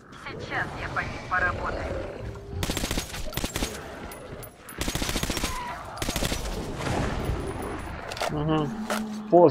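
Gunfire from the video game Metro Last Light Redux sounds in rapid automatic bursts, interleaved with game ambience and a voice speaking over the action.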